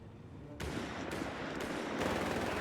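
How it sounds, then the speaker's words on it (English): Dense volleys of rifle and machine-gun fire from Jaegers shooting at riflemen in the real-time strategy game Company of Heroes 3, crackling bursts that swell and layer continuously through the battle with no voices. "Got Jaegers there firing at the riflemen here."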